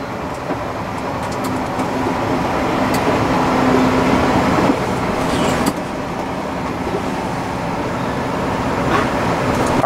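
A snowcat grooming machine at Park City Mountain Resort rumbles steadily, its engine running as the tracked groomer pulls slowly into a large maintenance bay, a continuous close, loud low drone with faint mechanical clanks.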